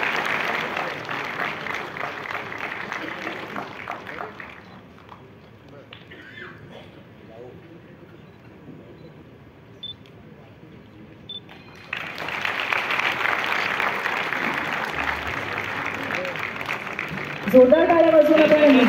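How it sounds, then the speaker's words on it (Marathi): An audience claps for a Kathak dancer at a public event. A loud burst of applause fades into a quieter lull, then a second strong round rises and grows louder toward the end. "जोरदार टाळ्या वाजवून आपण निधीचं कौतुक करूया।"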